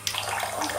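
Running water pours over a Galaxy S3 phone during a water resistance test, a steady close gushing stream that never breaks.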